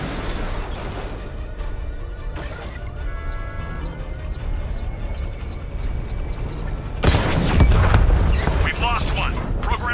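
Explosions and heavy impacts during a Cobra tank battle in Batman: Arkham Knight, with rumbling booms and bursts of fire that swell to a loud crash near the end. Talk runs beneath the action.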